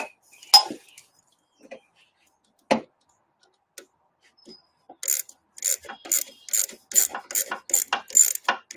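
Clamps being locked down on a Thundercat sandrail buggy: a few scattered clicks and knocks, then a quick run of sharp metallic ratcheting snaps near the end, close by and with no talking.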